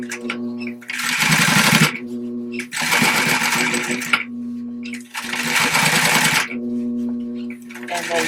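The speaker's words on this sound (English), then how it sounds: "So we're going to go ahead and stitch and back stitch," Sewing machine stitching and back stitching green thread along a zipper in three bursts of fast rattling, each about a second long, separated by pauses with a faint motor hum.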